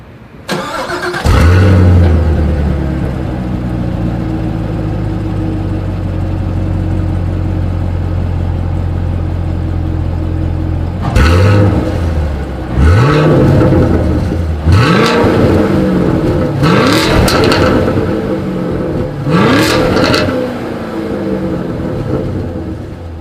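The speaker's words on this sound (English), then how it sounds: "As always, here is that exhaust clip." 2020 Chevrolet Camaro SS exhaust starts with a loud bark, settles into a steady rumbling idle, then gives five sharp revs in quick succession, each rising and falling back to idle.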